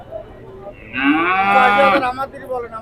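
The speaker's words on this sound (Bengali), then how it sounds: "এই যে সুন্দর একটা চমৎকার একটা বকনা বাচ্চা।" A Friesian heifer calf moos once, loud and close, a drawn-out call about a second long at a busy cattle market.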